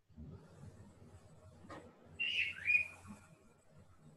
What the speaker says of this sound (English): I hear some birds in the background.